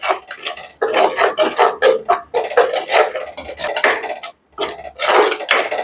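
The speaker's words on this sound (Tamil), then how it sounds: "இதை போட்டு பச்சை வாசனை போகிற அளவுக்கு இதை போட்டு வதக்க போகிறேன்." A utensil scrapes and clatters steadily in a cooking pan as ground tomato paste is sautéed for a vegetarian kulambu. The irregular knocks and scrapes are close and moderately loud, with no talk.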